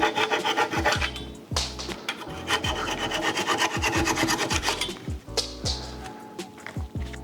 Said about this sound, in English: Now I'm going to cut these dowels off.